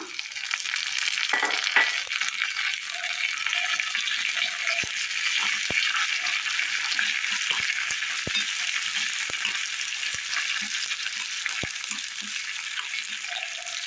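Shallots, dried red chilies and curry leaves sizzle in hot oil in a pan with a steady bright crackle, broken by light scrapes and taps of a stirring spoon.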